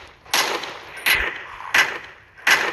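Four loud gunshot bursts in a video game ring out at roughly even intervals, each a sharp crack with a short decaying tail, with no talk.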